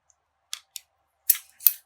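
Scissors trim the edge of a paper collage in a few short, crisp snips spaced unevenly in otherwise quiet surroundings. The cuts are close and clear, with no talking.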